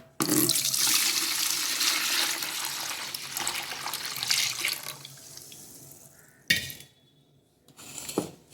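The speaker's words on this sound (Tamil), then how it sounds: "இப்போ இந்த அரிசி கழுவுன தண்ணியை முதல்ல சேர்த்துக்கலாம்" Rice-washing water pouring steadily and splashing into a vessel, tapering off, then two short splashy pours after a pause.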